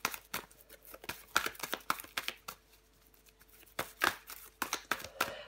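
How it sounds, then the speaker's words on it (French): Tarot cards are flipped and laid down on a table in a series of close, quiet papery slaps and swishes, irregular bursts separated by short pauses of near silence. "On va recouvrir des cartes."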